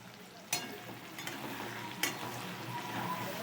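Spices for a vegetable curry fry in a pan, a soft continuous sizzle with two distinct sharp stirring scrapes, quiet and close, with no voices.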